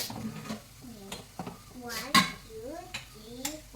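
Prawns shallow fry in a pan with a light sizzle, broken by scraping and clinking utensil hits against the metal while a voice talks faintly over the cooking.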